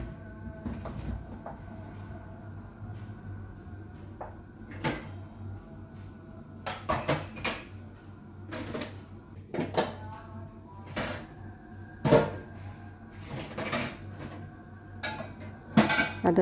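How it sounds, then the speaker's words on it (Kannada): Dishes, pots and cutlery clink and clatter in a kitchen as utensils are gathered for washing, with repeated sharp close knocks and rattles over a low steady hum. "ಕೆಲವು ತೊಳೆಯುವ ಪಾತ್ರೆ ಎಲ್ಲ ಉಂಟು."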